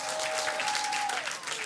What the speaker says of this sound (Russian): Аплодисменты Лизе!